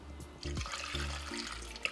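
A short, faint splash and gurgle of water being poured into a cooking pot of pumpkin, a quick stream lasting just over a second.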